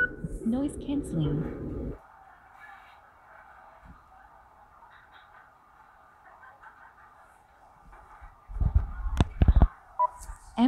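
Muffled ambient noise heard from inside the ear cup of Sony WH-1000XM4 headphones with active noise cancelling on: a low, steady hush after a louder opening burst, with a few soft thumps and rustles near the end.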